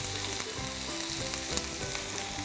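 Garlic, ginger and turmeric sizzle steadily in a hot pan for a mutton curry, a loud continuous frying hiss with faint scraping stirs and no talk.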